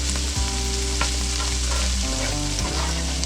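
Frozen green peas go into a hot pan with zucchini for a lobster and vegetable pasta, setting off a steady, close sizzle and frying hiss with stirring scrapes over sustained background music.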